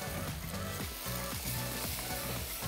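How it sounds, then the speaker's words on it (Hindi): Egg frying in oil over high heat for egg fried rice gives a loud, continuous sizzle close up, with crackles and stirring scrapes throughout. "इसके बाद ये हमने फौरी तौर पे इसमें शामिल कर दिया अंडा और तेज़ आंच पे इसको करेंगे फ्राई"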